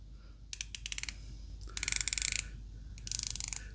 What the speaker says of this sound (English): The bezel is 120 click, and let's have a listen.